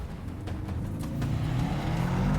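Cars launching side by side against a Rolls Royce on a live airport runway, engines swelling with a low growl that builds steadily over a couple of seconds, heard from close inside.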